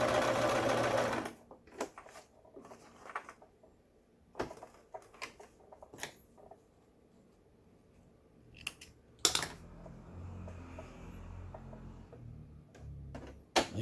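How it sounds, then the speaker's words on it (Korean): A Brother XL5500 home sewing machine stitches in several short bursts of rapid mechanical clatter separated by quiet pauses, heard close and without speech. "전원선을 꽂고 예, 박음질을 해보도록 하겠습니다."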